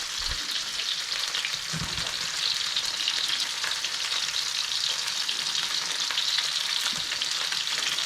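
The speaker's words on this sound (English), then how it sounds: "So I'm gonna let the pork sear for a minute." A pork chop sears in a hot pan, a loud continuous sizzle and spatter held steady throughout with occasional low thumps.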